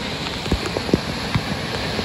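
Heavy monsoon rain near a flooded stream in Badlapur, a steady wash of falling water with scattered sharper drops and splashes standing out close by.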